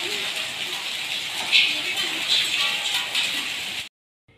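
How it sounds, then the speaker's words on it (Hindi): Heavy thunderstorm rain with hail pouring down outside a home courtyard, a dense steady hiss with brief louder bursts of hailstones, close and continuous until it cuts off abruptly near the end. "बाहर इतनी ज़्यादा बारिश हो रही है, ओले भी पड़ रहे हैं, बहुत तूफ़ानी बारिश है।"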